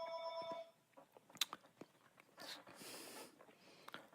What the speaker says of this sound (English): Oh, there's his phone.